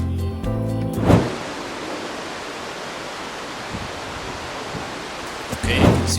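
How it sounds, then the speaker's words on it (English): Waterfall in the hills around Ella, Sri Lanka, a steady broad rush of falling water filling the scene, with a couple of brief louder handling bumps near the start and end. "Can you hear the sound of the waterfall?"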